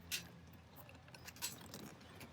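Car keys jangle with metallic clinks in two brief bursts while preparing a boat's controls before switching on its batteries, close and fairly quiet against a low background hum.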